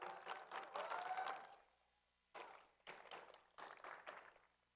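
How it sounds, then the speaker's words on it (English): An audience applauds donors at a district event in the SunDome, with bursts of clapping that stop and restart several times, fairly faint and distant. "Can we give them a big hand of applause"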